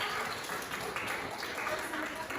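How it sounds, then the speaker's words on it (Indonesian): Classroom applause for the first group of students, a steady broadband wash of many hands clapping together at moderate volume, continuing evenly without a clear break. "Beri tepuk tangan untuk kelompok pertama."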